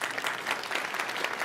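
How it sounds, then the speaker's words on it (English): A brief burst of full applause rises from an audience at a competition event. The dense, even clapping is close and lasts only a moment. "Give them a round of applause."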